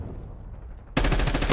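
Automatic gunfire in the video game Call of Duty Black Ops: a quiet low rumble, then a sudden loud, rapid burst of shots that fills the rest of the moment.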